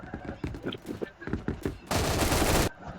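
Automatic gunfire in a Phantom Forces match: a loud, sustained burst of rapid shots near the end, following scattered quieter shots beneath a player's talk.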